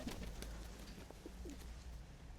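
Soft, low pigeon coos close by over a dull background rumble, a few short throaty calls spread across the moment.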